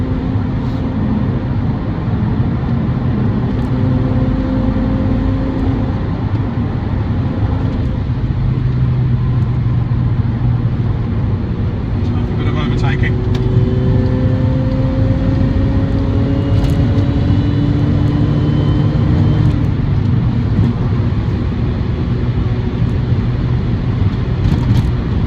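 A MINI Cooper S JCW GP drives along with its engine running steadily, a continuous close road and engine drone with slowly shifting tones as it gathers speed, no talk over it.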